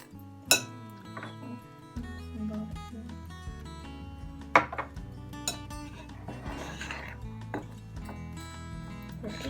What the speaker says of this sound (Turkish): Bunları karıştırıyorum kaşığımla.